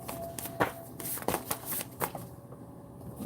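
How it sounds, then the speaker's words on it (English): Tarot cards are shuffled up close in a series of quick riffling and slapping bursts, soft and crisp, with short gaps between them. "I don't grab too many cards."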